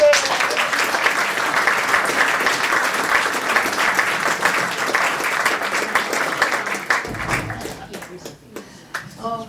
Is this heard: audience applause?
yes